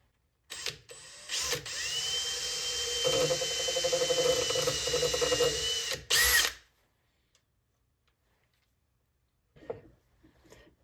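A power drill bores screw holes in a wooden box in one long, steady whine of about five seconds at close range. A short, louder burst follows, then near silence with a faint clatter at the end.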